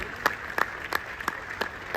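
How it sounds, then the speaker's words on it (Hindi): Audience applause greets a guest stepping onto the stage at an RCM business event in Bhilwara. The claps are faint and distinct, falling at a steady rhythm of about three per second over a quiet room. "एक बार जोरदार तालियां हो जाए उनके लिए"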